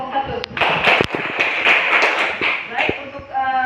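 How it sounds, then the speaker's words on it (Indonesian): Classroom applause for a student group: a short burst of clapping from many hands, dense and close, lasting a few seconds. "Tepuk tangan dulu untuk kelompok 1."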